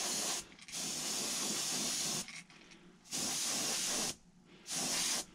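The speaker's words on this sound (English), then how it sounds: "I am literally spraying straight down on this" Spray paint hisses in three steady bursts of about a second each onto a Creek Chub fishing lure, laying a dark color down its spine, with short quiet gaps between bursts and no talking.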